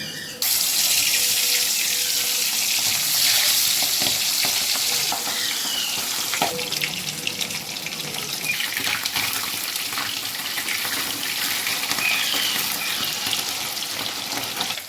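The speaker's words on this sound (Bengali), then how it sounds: "কড়াইয়ে তেল দিয়ে দিয়েছি, তেলটা গরম হয়ে গেছে। এবার মাছগুলো এক এক করে ভেজে নিচ্ছি।" Pabda fish frying one by one in hot oil in a wok, a loud continuous crackling sizzle with occasional spatters and a few clanks, lasting throughout without speech.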